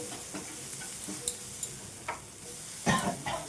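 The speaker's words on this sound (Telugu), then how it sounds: "ఆనియన్స్ మనకు ఫ్రై అయ్యాయా లేదు చూడండి" Onions frying in a pan on a stove give a quiet, steady sizzle, broken by a few sharp clicks and scrapes of stirring.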